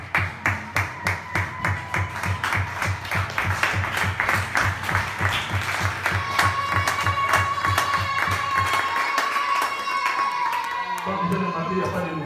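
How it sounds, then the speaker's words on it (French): Church congregation applauds in rhythmic unison, steady beat-like claps for about nine seconds, joined by crowd voices and a sustained tone before the clapping gives way to murmur. "Applaudissons pour Jésus."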